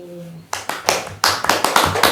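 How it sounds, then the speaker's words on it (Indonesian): A small group in a student podcast studio claps in brief, uneven bursts, the lively hand claps starting abruptly after a soft tone. "Tepuk tangan yang meriah untuk Kak Niken."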